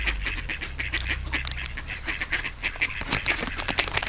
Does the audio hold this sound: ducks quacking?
yes